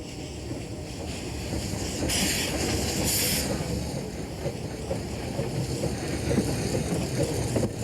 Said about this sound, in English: The train runs along a retaining wall above the rivers Nant and South Tyne